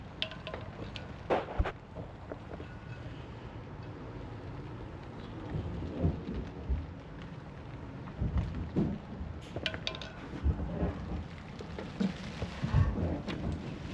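Rain falling outdoors in New Zealand, a steady broadband hiss and patter that continues throughout with occasional louder gusts and drips, fairly close by and with no talking.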